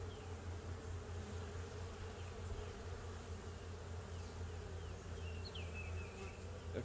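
Honey bees buzz steadily around a hive after a swarm, a dense continuous drone with a few individual bees passing close, fairly faint overall with no talking.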